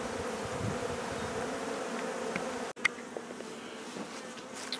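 Honey bees buzz around a hive in a steady, fairly quiet drone, with a sharp click partway through and occasional nearer passes.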